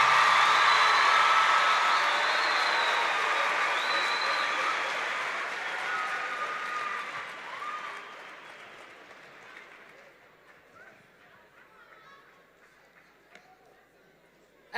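Audience applause at a university welcome ceremony, a broad wash of clapping from a large crowd that gradually thins and fades over many seconds, with some speech.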